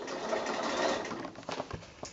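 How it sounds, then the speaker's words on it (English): A sewing machine stitches along the binding of a quilt, a soft, fairly quiet whirring run of rapid needle strokes that slows into a few separate clicks toward the end. "I'm going to leave it maybe 2 or 3 inches and then start sewing"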